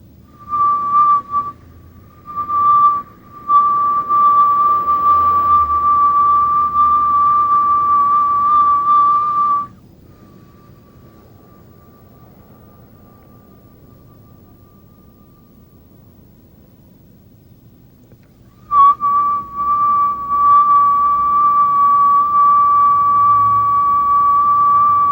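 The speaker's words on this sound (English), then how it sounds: "we'll inhale through the mouth in a whistle and exhale through the nose, slow, deep breathing" A slow yoga breath drawn in through the mouth as a steady, pure whistle plays for several seconds, falls silent for a quieter exhale, then resumes. The whistling is loud and close, with no talking.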